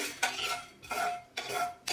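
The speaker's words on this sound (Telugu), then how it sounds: "నేను కొన్ని కలిపి వేయిస్తున్నాను." A utensil sweeps through dry spices roasting in a pan for chicken pickle, making four distinct scraping strokes in slow rhythm with only faint sizzle.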